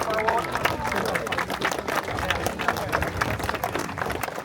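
Crowd clapping at an offroad rally award ceremony, steady dense applause with murmuring voices mixed in, sustained throughout.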